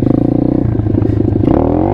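Apollo RFZ Chinese dirt/pit bike engine revving hard in first gear, a close, loud, buzzy single-cylinder drone that climbs in pitch toward the end as the throttle opens.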